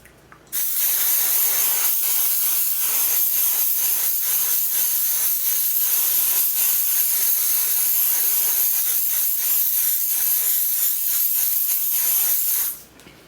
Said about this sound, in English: I need to use my setting spray. This is the One Size Until Dawn setting spray